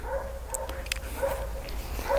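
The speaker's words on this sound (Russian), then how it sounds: "Что у меня там соседи лают?" Neighbourhood dogs bark from a distance, several short yaps and woofs scattered over a steady outdoor background hum.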